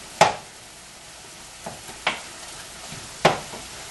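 Ground bison browns in a frying pan under a low, steady sizzle, broken by three sharp scrapes of a spatula stirring the meat, close and alone with no talk.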